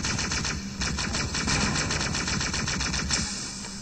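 Rapid automatic weapon fire from the Halo video game, a steady stream of close, loud shots with a few brief pauses, with no talking over it.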